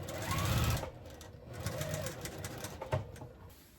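A sewing machine stitching quilt sashing whirs in short close bursts, starting and stopping with a few clicks as the seam is backstitched.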